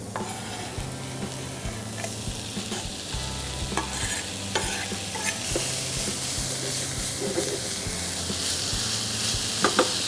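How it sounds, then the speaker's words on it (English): Onion and bacon sizzle in a frying pan, a loud close crackle and hiss with repeated stirring scrapes and a low steady hum beneath, no speech. "Just moving the onion about in the pan, and it's just started to soften. So now in goes the bacon."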